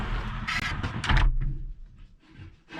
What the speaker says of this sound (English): It's a pocket door, supposed to be a anti-slam.